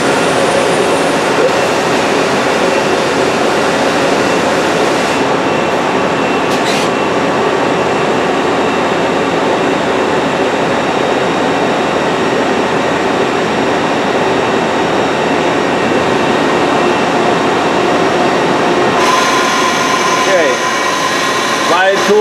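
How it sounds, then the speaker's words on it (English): Spindles of a Citizen M20 Type III CNC Swiss lathe running at about 1500 RPM, heard up close as a loud, steady machine drone with a constant whine that holds throughout. "can you turn on the spindles on that?"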